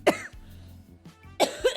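A woman coughs nearby in a quiet room: a sharp cough at the start, a pause with faint breathing, then a cluster of two or three more harsh coughs.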